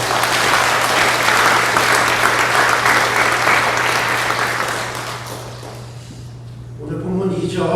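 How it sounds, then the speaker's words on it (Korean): A church congregation gives sustained applause during a worship service, loud and dense for several seconds before thinning out and giving way to a voice speaking. "우리 이 시간 하나님께 영광의 박수 올리겠습니다"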